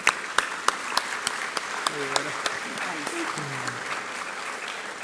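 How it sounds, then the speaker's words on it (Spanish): An audience applauds at a national education conference, a dense wash of clapping with a few sharp claps standing out, while a voice speaks briefly underneath. "para todos ustedes más bien un fuerte aplauso"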